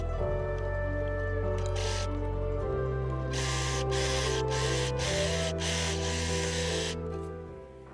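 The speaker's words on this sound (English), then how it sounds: "I will overlock the end of the skirt to prevent the seam to fray." An overlocker hums steadily as it stitches and finishes the cut end of a fabric skirt, its motor drone holding close and even before easing off near the end, with no talking.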